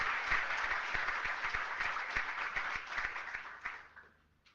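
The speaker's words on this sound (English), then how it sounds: "So please give a round of applause for David Nolen." Conference audience applauding a speaker, a dense wash of many hands clapping with a few sharper near claps, sustained and then fading out toward the end.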